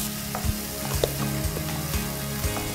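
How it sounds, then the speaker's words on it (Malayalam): Onions frying in a pan, a steady close sizzle with rhythmic scraping strokes of a spoon about every half second; no talking. "സവാള ഇങ്ങനെ വയറ്റി വരുന്നുണ്ട്."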